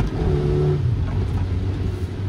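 A sixth-generation Honda Civic spins its wheels on a wet roundabout, the engine droning loud and steady with a brief rising rev early on and no voices over it.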